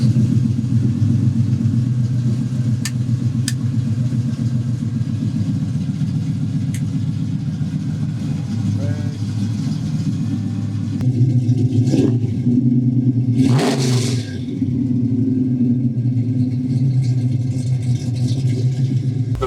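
A 1972 Chevrolet C10 pro touring truck idles with a deep, steady engine rumble close by, holding a loping low throb throughout with a short whooshing burst partway through and no talk.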